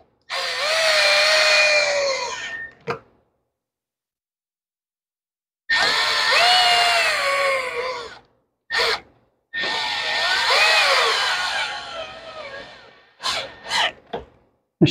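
A power drill drives screws into the cover of a Toro lawn mower, with several whining bursts of a few seconds each and then a few quick short pulses, close and loud, with no talk.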